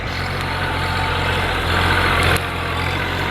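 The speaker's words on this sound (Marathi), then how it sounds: "आणि ही कुबुटा ट्रॅक्टर आहे" A Kubota tractor engine runs steadily nearby on a sugarcane farm, a constant loud low drone with a slight rise in intensity midway.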